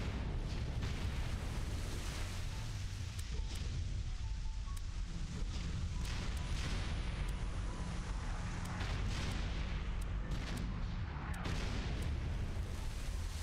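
Mortar artillery fire in the strategy game Battlecruiser, a dense continuous rumble of distant booms and blasts under steady wind-like noise, with no clear separate shots.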